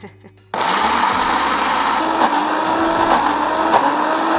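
A blender blending dip starts up abruptly after a moment of quiet and then runs loud and steady, its motor whirring with a slight wavering pitch.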